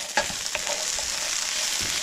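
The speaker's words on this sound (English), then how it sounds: "I got my potatoes cooking" Potatoes frying in a pan, a steady dense sizzle with a few soft clinks near the start, close and continuous with no talking.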